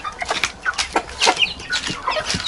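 A young cockerel clucks in a backyard poultry yard among turkeys and chicks, a run of short close calls repeating in an uneven rhythm over faint background rustle.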